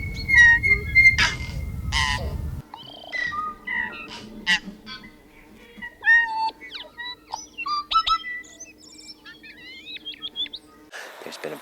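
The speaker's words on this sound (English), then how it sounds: "The tui bird is an indigenous bird to New Zealand, but they just have the most unique call." A tui in New Zealand sings a varied string of bell-like notes, clicks and liquid whistles, fairly close and clear against a quiet background.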